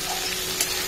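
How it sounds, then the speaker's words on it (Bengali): Potatoes fry in hot oil with panch phoron and chili, a brief, steady crackling sizzle lasting under a second. "পাঁচ ফোড়ন দিয়ে আলুগুলো লাল লাল করে ভেজে নিতে হবে"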